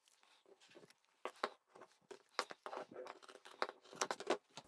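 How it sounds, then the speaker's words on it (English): Scissors snip around the curves of a fabric bag and its lining in a run of short, crisp, irregular cuts, close and fairly quiet. "with this one here we can cut off the curves"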